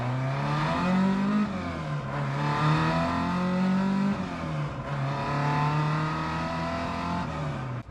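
A car engine with a freshly adjusted carburettor revs repeatedly and loudly up toward the top end without spluttering, each rise followed by a brief drop in pitch before climbing again.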